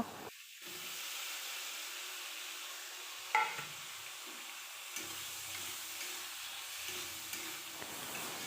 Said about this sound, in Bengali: মশলাটা যখন ভাজা হয়ে যাবে তখন তার মধ্যে ঝিঙ্গেগুলি দিয়ে দেব